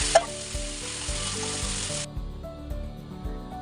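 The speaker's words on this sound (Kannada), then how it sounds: "ಅದು ಕಾಯ್ದ ನಂತರ ನೆನೆಸಿಟ್ಟಿರೋ ಅಂಥ ಮೀನನ್ನ ಹಾಕ್ತಾ ಇದ್ದೀನಿ. ಅದು ಒಂದು ಸೈಡ್ ರೋಸ್ಟ್ ಆದಮೇಲೆ ಮತ್ತೆ ಇನ್ನೊಂದು ಸೈಡ್ ರೋಸ್ಟ್ ಮಾಡಬೇಕು." Fish pieces sizzling on a hot tawa for a Kannada-style fish tawa fry masala, a loud broadband hiss that cuts off partway, leaving a lower ongoing background with occasional soft clicks; no talking.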